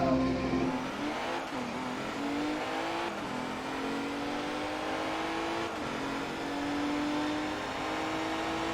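Race cars in Forza Motorsport 2, including a Z06, a GT3 Cup car and an Acura NSX, launch from the start of an R4 World Trophy race, engines revving and rising through the gears in a loud, layered roar.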